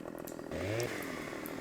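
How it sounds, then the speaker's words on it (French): A chainsaw in the video game Farming Simulator 15 cuts branches off a felled tree, its engine revving up to a steady loud buzz that holds for over a second with no talk. "On va récupérer donc la tronçonneuse."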